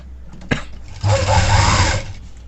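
A sewing machine stitches blouse fabric in a tailoring session: a sharp click, then about a second of steady, close mechanical whirring before it stops.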